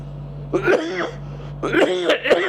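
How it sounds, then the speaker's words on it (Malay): Two harsh, raspy coughs come in separate bursts, close and fairly loud, with a short pause between them. "batuk tak lega lagi"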